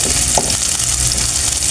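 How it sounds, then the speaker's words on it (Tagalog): Onion and garlic sizzling loudly in hot oil for a Bicol Express with dilis, a steady close frying hiss throughout with no voices. "mainit na po yung ating mantika. Lagyan na natin itong ating sibuyas, bawang."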